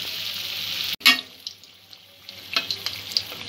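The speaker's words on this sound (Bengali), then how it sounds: "মিডিয়াম লো ফ্লেমে 2 পিঠ লালচে করে ভেজে নেব পিঠেগুলো।" Pitha frying in oil over a medium-low flame, browning to a reddish color on both sides: a steady broadband sizzle, broken by a brief gap and a burst as pieces are moved, then scattered pops and crackles.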